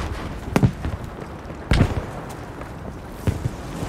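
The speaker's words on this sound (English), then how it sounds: "Throwing nades." Grenades going off in the Battlefield V Firestorm video game: three short, punchy blasts with thudding low ends, spaced about a second apart over low background noise.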